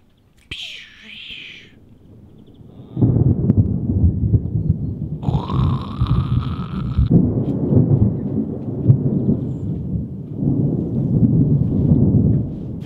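A long, deep rumble of thunder rolls on for several seconds, low and heavy, with a brief higher-pitched sound partway through.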